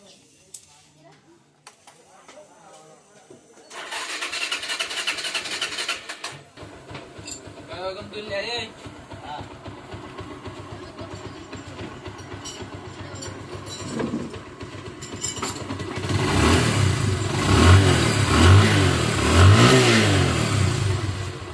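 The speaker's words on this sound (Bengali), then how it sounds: "বাইকটা আমরা স্টার্ট করে আপনাদের দেখাবো যে আসলে টাইমিং বাইকের শব্দটা কেমন হলো" A motorcycle engine, just repaired after a timing fix, starts up and idles, then revs harder and louder toward the end, running close and continuous.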